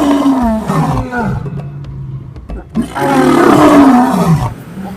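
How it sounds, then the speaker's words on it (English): A lion gives deep, loud, close roars in two long groaning bursts separated by a short pause with a few grunts, each roar sliding downward in pitch as it ends. "A lion's roar can be heard up to 8 kilometers away."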